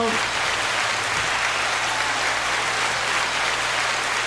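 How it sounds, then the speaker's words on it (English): A round of applause from a small group, steady continuous clapping that holds at an even level from start to finish. "All right, round of applause"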